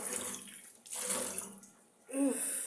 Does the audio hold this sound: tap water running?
yes